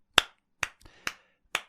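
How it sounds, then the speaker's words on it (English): Five sharp, separate hand claps spaced unevenly across a couple of seconds, crisp and close, with silence between them and a faint softer knock among them. "Now, this is the first post we'll actually give some claps to."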